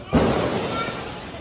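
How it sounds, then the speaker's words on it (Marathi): A single firecracker bursts with a sharp bang, and its rumble fades away over the next second. "फटाक्या"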